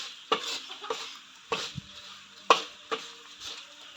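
Kaffir lime leaves and chili frying in hot oil, with a light sizzle under repeated sharp scraping strokes of a spatula stirring the pan at an irregular rhythm, close and fairly quiet.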